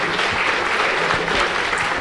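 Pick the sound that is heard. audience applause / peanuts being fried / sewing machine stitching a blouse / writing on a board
audience applause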